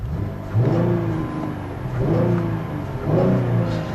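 A 2015 Cadillac ATS Coupe's 3.6-liter direct-injection V6 starts and revs, with three rising engine surges roughly a second apart, close and moderately loud with no talking.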